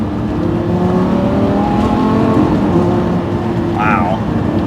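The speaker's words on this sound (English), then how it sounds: "it sounds so good with that naturally aspirated 10-cylinder" A Lamborghini Gallardo's naturally aspirated V10 runs under load from inside the car, a steady engine drone with shifting revs and a brief whine near the end, while a person talks over it.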